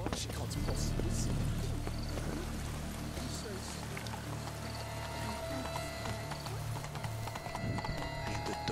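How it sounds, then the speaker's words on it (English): Horse hooves from The Witcher 3 clip-clop steadily through a busy game soundscape, with a bit of whinnying and ambient bustle, under a speaking voice. "Where's my steed?"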